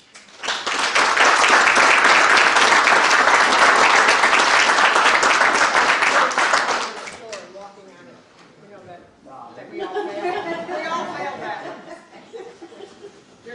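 Meeting audience at a legislative session breaks into loud sustained applause for about seven seconds, mixed with chuckles, before it fades into scattered laughter and chatter.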